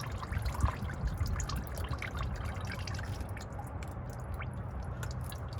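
Engine oil draining from a 2021 Toyota Tacoma TRD Off Road during its first oil change at 1,000 miles, a steady continuous trickle and dribble of liquid running for the whole stretch at moderate level, with no talk.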